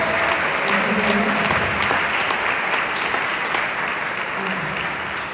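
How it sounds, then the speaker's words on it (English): A South Carolina All-State Jazz Ensemble audience applauds the tenor sax, trumpet and drum soloists, the clapping sustained and even at a steady level across the whole stretch, with scattered sharper claps standing out. "So round of applause"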